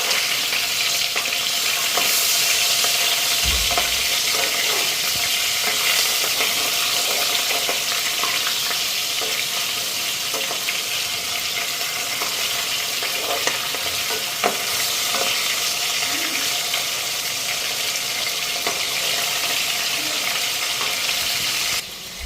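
Fish frying in hot oil in a pan gives a loud, unbroken sizzle that lasts throughout, with occasional scrapes and stirring knocks from a spatula close by.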